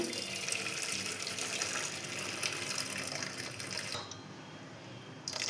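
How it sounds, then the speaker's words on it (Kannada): Cooking water gushes steadily as it is strained from boiled greens and lentils for a village-style greens curry, a continuous close splashing pour that eases slightly near the end. "ಇವಾಗ ಸೊಪ್ಪು ಮತ್ತು ನೀರನ್ನ ಸಪ್ರೇಟ್ ಮಾಡ್ಕೊತಾ ಇದ್ದೀವಿ"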